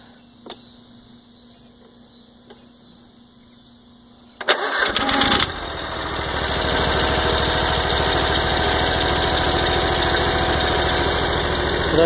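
A 2007 Gravely 152Z zero-turn commercial mower with a 52-inch deck and a Kawasaki FH-series engine cranks and catches after a quiet hum, then settles into a steady, loud running drone.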